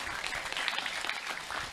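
Audience applause at a sholawatan religious gathering in Plumbon, a steady dense clapping from a crowd that holds at an even level throughout, with no one speaking over it.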